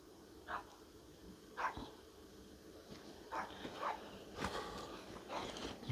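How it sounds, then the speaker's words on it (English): A little dog at an outdoor café seating area near a food caravan gives several faint, scattered yips and snuffles at a distance, mixed with footsteps and background ambience, without talking. "It's that little dog."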